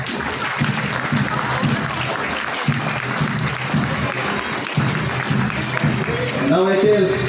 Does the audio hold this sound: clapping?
yes